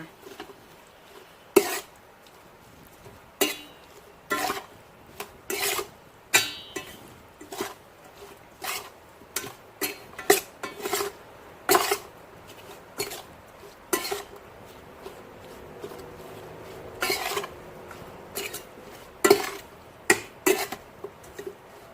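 Shimeji mushrooms tossed with bean sprouts, fish sauce and fermented fish sauce in a bowl, giving a steady run of sharp utensil clinks and scrapes against the dish, close and fairly loud, with no one talking.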